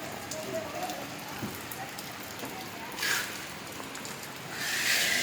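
Rain falling outdoors at a street vendor's stall, a steady patter on surfaces throughout with brief heavier bursts near the middle and end.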